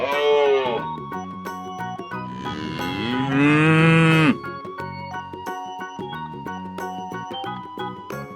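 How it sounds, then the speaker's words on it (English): A cow moos in a few long, drawn-out calls, close and loud, with an animated farm-animal cartoon's music playing beneath and between them. "Cow."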